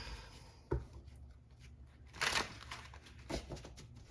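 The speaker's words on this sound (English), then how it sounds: "I apologize for the shuffling." Tarot cards being shuffled by hand in a quiet room, three soft riffling bursts separated by gentle rustling, close and fairly faint.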